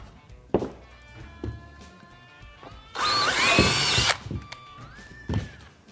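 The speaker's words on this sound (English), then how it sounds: "remove that and drill the hole for the wires for that as well." Power drill boring a hole for wiring on the rear of a 2001-2010 Honda Gold Wing motorcycle, one loud sustained whine of about a second, with scattered clunks and handling knocks before and after it.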